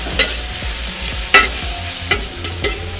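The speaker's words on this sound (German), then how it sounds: "Braten das Ganze scharf an." Shallots, tomatoes and sliced chillies sear on a hot teppanyaki plate, a continuous loud sizzle broken by several sharp scraping stirs from a spatula across the metal surface.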